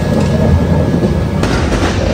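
A passenger train on the line toward Araku slowing to a halt beside a station platform, giving a steady, loud, broadband rumble of wheels and carriages that holds evenly throughout with no voices.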